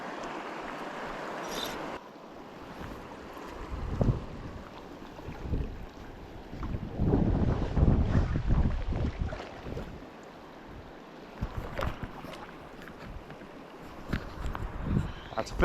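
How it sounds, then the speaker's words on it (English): Gusty wind buffets the microphone along a stretch of the Deschutes River, swelling and easing in rough bursts over steady rushing water, with no voices. "This is always a particularly windy stretch right here too."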